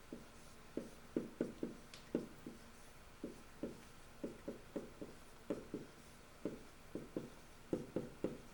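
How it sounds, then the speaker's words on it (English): Pen or marker strokes writing out a math problem on polynomials, a quiet series of short scratchy taps in quick clusters, close and faint with no talk. "I will write it out so you guys can see it better."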